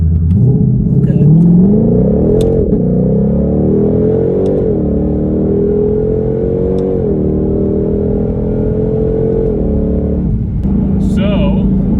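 A 2020 Ford Mustang GT500 with a dual-clutch transmission drones loudly from inside the cabin, its engine note stepping through several shift changes, while people talk over the steady rumble.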